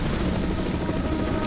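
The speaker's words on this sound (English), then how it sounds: "The chopper can land here" A helicopter in the game Warhounds throbs loudly and steadily with a dense, low rotor roar that fills the whole moment without a break and without voices.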